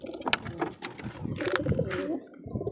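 Pigeons cooing inside a pigeon house, several soft overlapping coos close by, with rustling and scratchy movement throughout.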